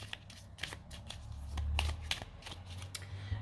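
Tarot cards are cut by hand, giving several sharp card snaps and quick shuffling riffles at close range over a low steady hum, with no talking.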